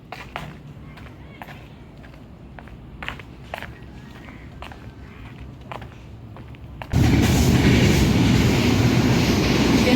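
At a park in Mirsarai, Chattogram, Bangladesh, scattered footsteps and light clatter give way about seven seconds in to the sudden loud, sustained roar of a passing train, with some talking nearby.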